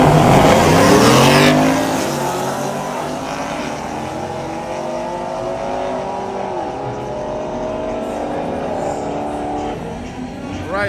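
Drag racing cars, one with a 6.0 liter engine, launching side by side from the line in a loud roar that falls away, with engine tones sweeping up through gears as a voice talks over it.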